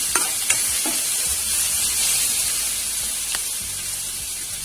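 Chopped green chili and masala sautéing in hot oil for a dill and mixed vegetable curry, a loud steady sizzle with a few brief stirring clicks near the start, close and without talk.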